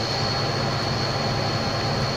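A Pacific Surfliner passenger train hauled by an F40PH diesel locomotive in a train simulator hums along at a slow, steady pace, with a constant drone and a faint high whine and no distinct clanks.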